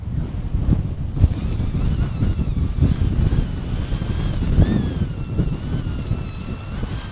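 Strong wind of roughly 20 mph buffeting a tent, a steady loud roaring rush with microphone wind noise and flapping fabric throughout, no voices.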